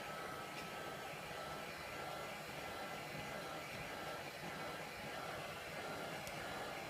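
A heat gun blows with a steady, even airy roar while heating the front glass of a MacBook Pro, fairly quiet and unbroken.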